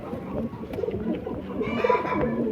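Soft, low cooing of a Madrasi pigeon nearby, a murmuring throaty call repeating over a faint background hum.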